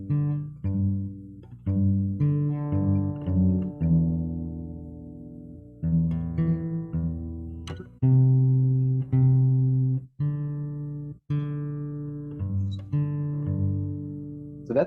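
Fingerstyle acoustic guitar plays a song accompaniment, a plucked bass line alternating under chord tones in a steady, repeating pattern that goes on without a break, close and clear with no voices.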